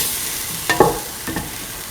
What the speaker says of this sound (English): Mix and let the mixture cook for around 4 to 5 minutes.